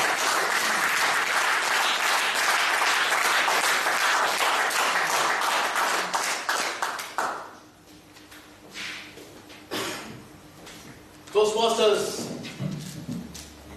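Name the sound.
audience applause welcoming a speaker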